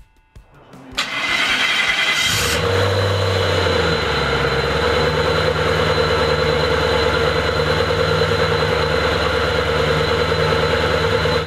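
A Maserati 3200 GT V8 BiTurbo with its original factory exhaust cranks and fires, then settles into a steady, loud, close idle that holds for about nine seconds with no talk.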